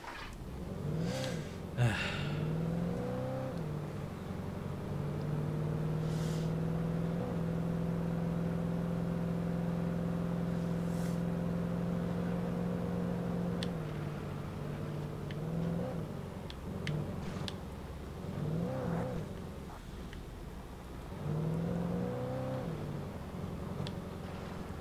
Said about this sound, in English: Back to driving.